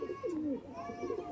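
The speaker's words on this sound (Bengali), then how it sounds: "এটা আছে মাদি পায়রা আর এটা আছে নর পায়রা" A pair of racing pigeons, a female and a male, coo softly in a loft, a few rolling low calls close by with faint background noise.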